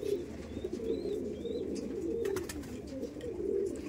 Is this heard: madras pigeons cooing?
yes